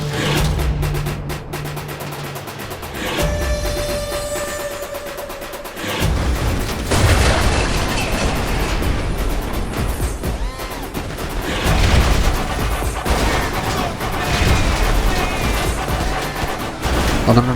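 Gunfire and explosions from GTA 5 Online, a loud barrage of shots and booming blasts that comes in bursts and heavy volleys, dense and chaotic, with some game sounds between them.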